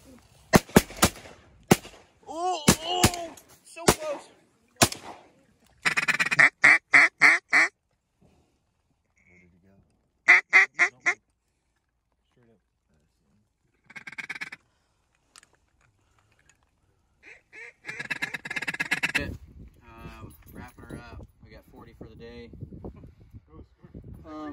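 Ducks, likely wigeon, quacking in short repeated bursts during a Washington duck hunt over decoys, with some calls close and loud and others fainter and scattered, mixed with brief sharp shot-like bangs and occasional talk.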